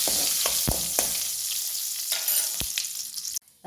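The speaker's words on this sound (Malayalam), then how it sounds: "കടുക് നന്നായി പൊട്ടണം കേട്ടോ" Mustard seeds, dried red chilies and curry leaves crackle and sizzle in hot oil for a Kerala sambar tempering, with sharp popping bursts over a steady hiss that cuts off abruptly near the end.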